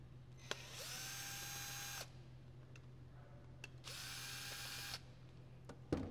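A cordless drill fitted with a TP27 bit spins out screws holding a handle to the main body of a soil pick, two sustained whirring runs with a clicking pause between, close and alone over a steady low hum.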